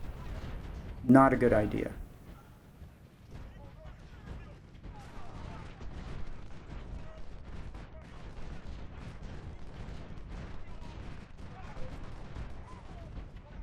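Artillery fire in a Civil War strategy game set at Antietam, with Napoleon cannons and 3-inch guns: one loud booming blast near the start, then a steady low rumble of distant gunfire beneath a voice.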